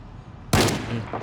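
A single loud, close gunshot cracks out abruptly in Project Zomboid, at a police station, after a low steady background hum, its boom ringing briefly before fading.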